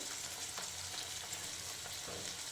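Ground masala paste sizzles in hot oil as tempering for a potato sagu, a continuous close hissing fry with a few faint stirring scrapes and no talking.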